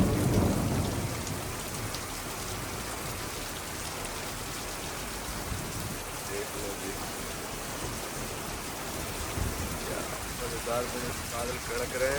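Heavy rain pours in the Jim Corbett jungle in a dense, continuous hiss, with low thunder rolling beneath the downpour throughout.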